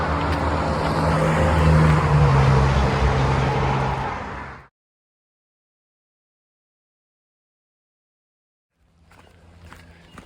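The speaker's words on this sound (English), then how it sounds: "I'm crossing Interstate 90" Traffic on Interstate 90 beneath a hiker crossing on the Appalachian Trail in Massachusetts: a loud, continuous road roar of passing vehicles lasts about four and a half seconds, then cuts to silence before faint rumble returns at the end.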